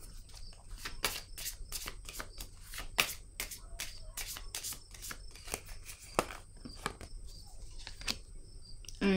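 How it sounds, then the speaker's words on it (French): Tarot cards being shuffled and drawn, a run of crisp, close, irregular flicks and slides of card stock, faint and quiet. "Je vais piger une autre carte."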